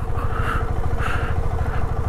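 A motorcycle engine idles steadily and close by while the bike is parked on a damp evening after rain, with a low continuous throb.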